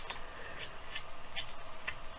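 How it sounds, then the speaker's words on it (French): A scissor blade scrapes along the edges of paper circles for a distressed scrapbook finish, making a few quick, dry rasping strokes at a steady rhythm, close and fairly quiet, with no talking. "je vais aller gratter avec la lame de ma paire de ciseaux"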